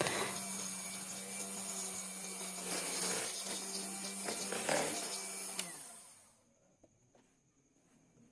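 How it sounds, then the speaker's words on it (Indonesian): An electric mixer beating marble cake batter with eggs, a loud, steady whirring drone that runs for about six seconds and then cuts off, leaving near silence with small clicks. "Setelah telur semuanya masuk, kita mixer lagi selama kurang lebih 1 menit."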